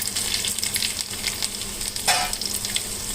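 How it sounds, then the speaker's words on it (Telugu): Cumin and mustard seeds splutter in hot oil on a low flame for a Telangana pachi pulusu tempering, a steady crackling sizzle with dense popping and a brief louder burst near the end, close and with no voices. "జీలకర్ర, ఆవాలు సిమ్లో పెట్టుకోండి, పోపు మాడిపోద్ది, చిటపటలాడాలి"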